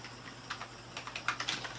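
Quick, sharp clicks from a computer mouse, alongside a cheap gaming keyboard, come in a loose burst that grows denser and louder toward the end, close up with no voices.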